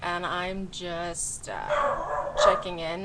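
A schnauzer barks and yips in short bursts, up close, as a person talks over and between the barks.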